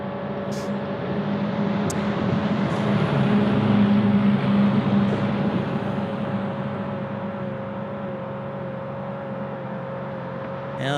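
A car engine drones and revs in the distance near Ted Stevens Anchorage International Airport, its pitch swelling and holding steady over a constant background of road noise.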